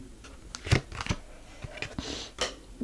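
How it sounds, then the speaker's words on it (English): Tarot cards are shuffled by hand in a series of close, crisp riffles and taps, irregular bursts of papery flicking with short pauses between them. "what am I shuffling my cards for?"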